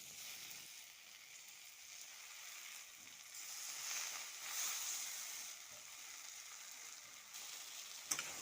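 Mashed eggplant frying in a wok, a faint, steady hiss of oil with soft stirring swells midway and a single sharp utensil tap near the end, no voices.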